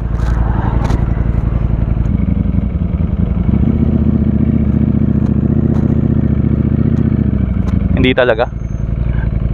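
Ducati Streetfighter V4S naked bike turning at low speed, a steady loud engine idle and rumble throughout with a short high rising whine near the end; someone speaks briefly.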